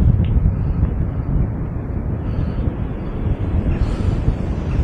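Heavy wind buffets the microphone on the Pontcysyllte Aqueduct, producing a loud, continuous low rumble and flutter with no speech.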